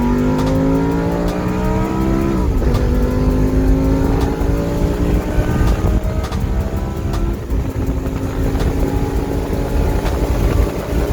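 Lamborghini Gallardo accelerating from a slow roll of about 15, its engine pitch climbing steadily and dropping briefly at quick gear shifts, loud and close with wind rush and no talking.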